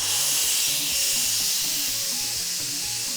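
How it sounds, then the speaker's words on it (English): Steam hissing steadily from a pressure cooker of potatoes in a home kitchen, a loud continuous broadband rush with a faint low rattling underneath, no speech. "So I'll release the steam now."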